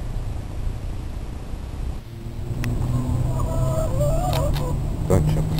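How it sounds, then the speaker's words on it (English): Chickens and a rooster clucking in a backyard flock, a steady murmur of overlapping clucks and calls close by over low background noise, growing busier after the first two seconds. "The rooster is teaching the little chickens how to be chicken, make chicken noises."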